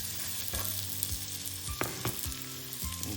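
Onions fry in melted butter in a soup pot, giving a steady, close sizzle with repeated scraping and stirring knocks as they are moved around.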